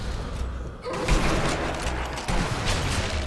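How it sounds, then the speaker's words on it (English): Sniper rifle fire in Sniper Elite Nazi Zombie Army: two loud, booming shots land about a second and a half apart amid dense, noisy game ambience. "Oh, shot through the smoke and got one."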